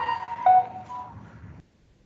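A mobile phone rings in a courtroom during an inquest, producing a single electronic tone burst of a little over a second that then cuts off into near silence.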